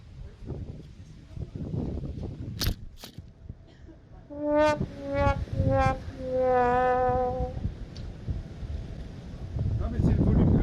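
Strong wind buffets the microphone on a muddy, rainy building site where wall panels are being set, with gusty rumbling throughout, a whining tonal drone midway and people talking.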